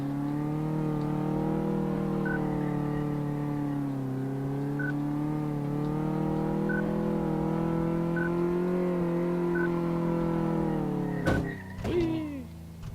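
A car idles steadily in the Car Mechanic Simulator game, with an even engine drone throughout. Near the end an e-brake skid and spin-out breaks in as a brief sweeping squeal with a dull thump.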